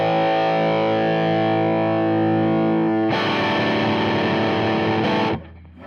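Electric guitar played through a PRS 25th Anniversary 50 Watt HX/DA head on the HX setting: a sustained, distorted ringing chord, then a loud, thick, aggressive strummed passage that cuts off abruptly into brief room decay.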